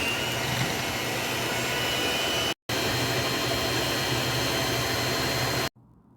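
An electric mixer whisking egg whites for chile rellenos, a loud continuous whirring roar that runs steadily, drops out briefly for a split second, resumes, then stops abruptly near the end.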